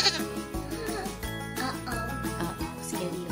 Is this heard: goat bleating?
yes